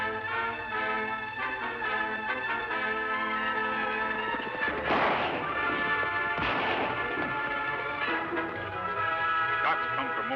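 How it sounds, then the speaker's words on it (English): A couple of sharp gunshot cracks ring out over a sustained orchestral music bed in an old-time western radio drama, fairly loud and spaced a second or two apart. "Shots come from over there."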